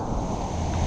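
Heavy ocean surf roars beneath a waterspout, a dense, continuous wash of water and wind buffeting close to the microphone with no break.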